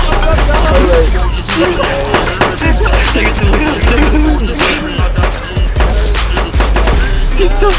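Dense gunfire bursts from the DayZ video game during a roadside carjacking in Balota, with rapid overlapping shots and booms running continuously at loud volume, and voices faintly under the shooting.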